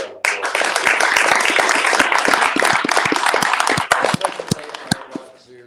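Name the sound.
audience applause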